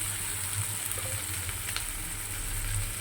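Prawns fry in a wok while being stirred, a steady close sizzle with soft scraping and crackle running throughout, with no talking.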